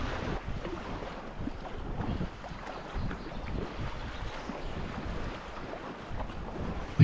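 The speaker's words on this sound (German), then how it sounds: "Hochkonzentriert paddeln wir weiter." Paddlers in a boat work through light white water on the Lieser river, a wild forest gorge stream. Rushing water and wind buffeting the microphone make a constant rough roar, with occasional splashes and no talk.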